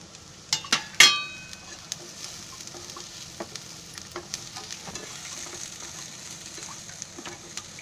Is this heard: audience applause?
no